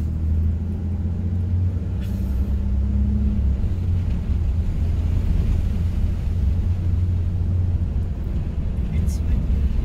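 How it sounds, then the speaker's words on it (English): Wind buffets a phone microphone outdoors ahead of a storm, a steady low rumbling roar of gusts throughout, with a car engine faint in the background. "It's windy."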